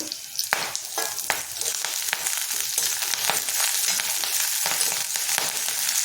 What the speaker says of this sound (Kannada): ಇದಕ್ಕೆ ಇವಾಗ ಎಲೆಯನ್ನು ಹಾಕ್ಕೊಳ್ಳೋಣ, ಸ್ವಲ್ಪ ಹುರಿಯೋಣ